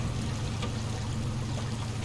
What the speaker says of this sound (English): Flowing water.